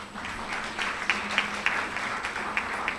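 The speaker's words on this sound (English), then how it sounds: "Round of applause." A college of architecture convocation audience gives a round of applause, heard as a moderate, even wash of clapping from a hall with a few sharper individual claps standing out, continuing steadily throughout.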